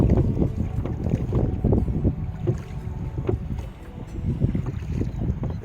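A rowing boat is rowed off the North Cape of Woody Island, Alaska, the oars dipping in an irregular rhythm of close, soft splashes and knocks over steady wind noise.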